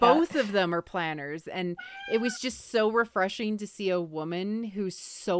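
A pet cat meows faintly during continuous conversation between two people, the short cries tucked under their voices.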